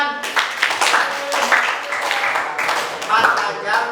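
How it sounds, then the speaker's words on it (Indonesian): Classroom applause during a Quran tajwid recitation lesson, a steady patter of many hands clapping at moderate loudness for about four seconds, with voices mixed in. "Ya, betul, tepuk tangan."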